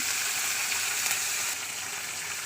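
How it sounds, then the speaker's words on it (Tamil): Curry leaves sizzle in hot oil in a pan, giving a steady, close, hissing crackle that stays constant throughout with no talk. "அந்த கருவேப்பிலையை இதில் போட்டுக்குங்க போட்டுக்கிட்டு லைட்டாக வதங்கி"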